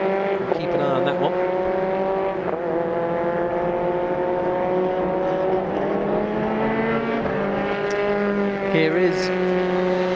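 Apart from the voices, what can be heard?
race car driving through a hairpin turn, MRF Challenge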